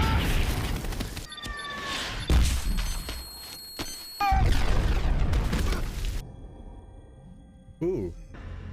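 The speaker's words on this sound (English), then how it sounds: "What's going on? An explosion." Several heavy explosion booms and bursts of blast noise from the film Iron Man (2008) erupt in quick succession, loud and close, between stretches of background sound and brief quieter moments.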